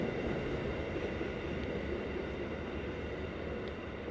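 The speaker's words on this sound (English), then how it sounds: "Another episode we got the diesel train, so we've got another one again." A diesel suburban train at Cheltenham station makes a steady, loud rumble that holds for the full length with no break, and no one speaks over it.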